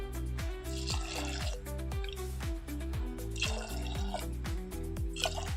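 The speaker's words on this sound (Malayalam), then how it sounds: "പരിപ്പ് വേകാനായിട്ടുള്ള വെള്ളം ഒഴിക്കാമേ" Water splashes and gushes in short bursts as it is poured into a pressure cooker with lentils, with steady music playing underneath.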